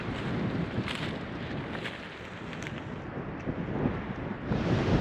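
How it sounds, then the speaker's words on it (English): Strong wind gusting across an open field in Iowa in February, a loud continuous rumbling roar buffeting the microphone with no voices. "I'm out in the open. It's super windy."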